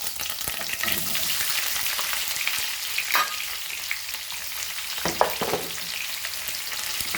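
Onions fry in hot oil with fenugreek seeds for a Goan mackerel ambotik curry, a steady close sizzle with a few sharper spatters and stirring scrapes, no voices.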